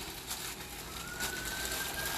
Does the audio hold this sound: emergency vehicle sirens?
yes